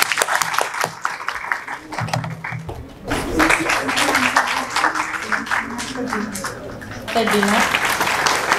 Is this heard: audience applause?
yes